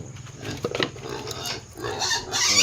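Pigs grunt and oink on a farm during morning feeding, with short snorts over ongoing background noise, close by at moderate loudness.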